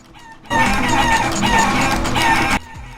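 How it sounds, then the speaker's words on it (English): Loud, dense squawking and clucking from a flock of chickens fills a Guacamelee! video game scene, running steadily for about two seconds before cutting off abruptly. "We just have to listen to a lot of squawking."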